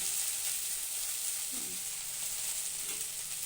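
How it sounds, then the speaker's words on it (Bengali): Okra frying in a pan, a steady close sizzle and hiss running throughout with a faint stir or clink in the middle. "এটা কি আছে ভেন্ডি ভাজা"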